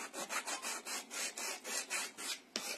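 Rhythmic back-and-forth sanding strokes on plastic, about a dozen even scratchy passes, close and fairly quiet with no talking.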